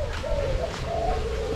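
Spotted doves coo in soft, repeated low phrases, steady and fairly close, against a constant background rumble, with no talking.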